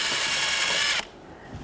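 A 3/32 drill bit turns back and forth inside a brake caliper to clear out dirt, giving a close, steady ratcheting whir for about a second before it cuts off abruptly, leaving faint quiet.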